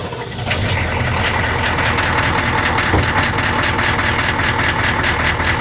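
A Humvee M1097R1 truck engine idles steadily right after starting, a loud continuous low rumble with no talking over it.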